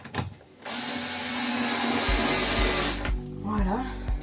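An electric screwdriver whirs steadily while driving a screw into a van's sliding side door, the motor running for a couple of seconds and then stopping short of full depth, followed by a few brief knocks.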